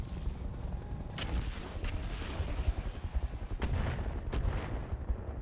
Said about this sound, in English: We're going to continue putting our artillery on the Black Knight.